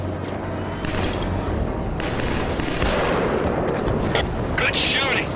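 Gunfire in the video game Killzone 3 crackles in rapid bursts and scattered shots amid battle noise, with a voice heard briefly over the dense, fairly loud mix.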